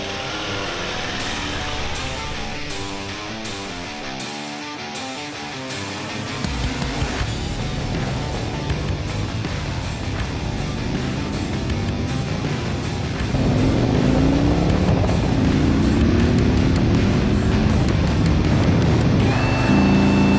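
A 2026 Harley-Davidson Police Road Glide motorcycle being ridden, its engine droning steadily with shifting pitch as it accelerates, growing louder and rougher in the second half alongside wind noise.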